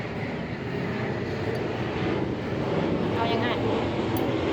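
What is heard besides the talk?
airplane flying overhead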